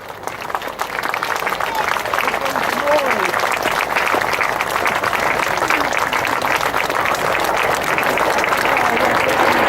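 Sustained applause from a large outdoor crowd at a Red Arrows air display, dense and steady clapping that swells in at the start and holds at an even loud level throughout, with faint voices and a distant announcer blended in.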